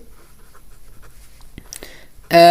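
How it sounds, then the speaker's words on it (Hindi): Pen writing on paper in an English lesson, faint scratchy strokes close by in a quiet room, ending with a sudden loud burst of another sound. "अब देखिए यहां से इसका लिखना स्टार्ट करते हैं"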